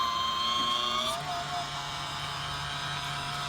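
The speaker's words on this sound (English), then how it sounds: "This specific model is electronic. You can tell because you can kind of hear the motor spinning" The electric motor of a school bus stop-sign arm spins with a thin, steady whine. The whir shifts pitch slightly early on, then holds an even hum close to the microphone.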